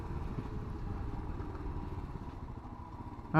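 A 2021 Royal Enfield Himalayan motorcycle rumbles steadily under way, its low engine note and road noise holding even and close throughout, with a louder burst at the very end.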